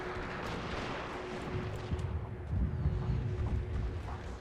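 Artillery fire in the Total War: Fall of the Samurai strategy game, a dense rumbling battle din with low booms and a steady mechanical drone, continuous throughout and swelling louder toward the end.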